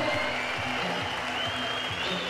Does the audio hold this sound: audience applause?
yes